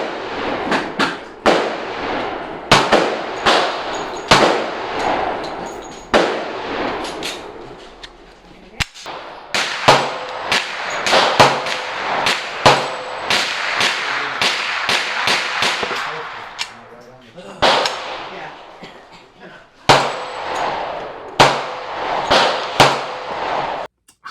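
Rapid gunfire from a Hi-Point JXP 10mm pistol, loud sharp cracks fired in fast strings with echoing reverberation filling the gaps, a brief pause before the shooting resumes.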